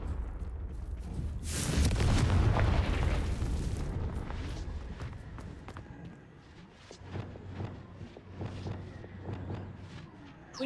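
Spell blasts and explosions from the Hogwarts Legacy video game: a big booming burst early on, then a quieter stretch broken by several sharper popping impacts and faint footsteps.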